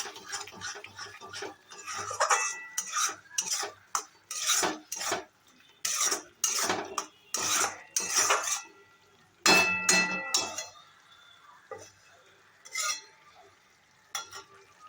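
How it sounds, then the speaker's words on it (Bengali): Chicken curry with curd and cashew paste is stirred in a pan, with repeated loud bursts of a metal spoon scraping and clinking against the pan, separated by short pauses and a faint sizzle. "কন্টিনিউয়াসলি এটা নাড়াতে থাকবে"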